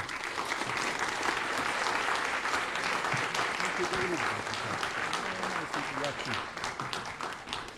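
An audience applauds to welcome a speaker to a podium at a Holocaust history lecture. The clapping is steady and sustained throughout, fading slightly at the end, with a few faint voices underneath.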